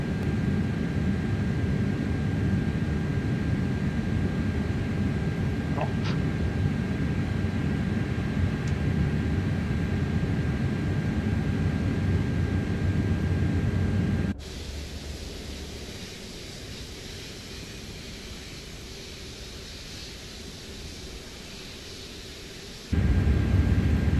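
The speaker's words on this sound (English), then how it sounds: "Taxi carefully down. Not used to taxiing such a big aircraft." Airbus A330 taxiing in Microsoft Flight Simulator 2024 at Birmingham airport, a steady, loud broadband jet engine rumble and hiss that shifts to a quieter, thinner cabin-like drone partway through before swelling back up, with no talk.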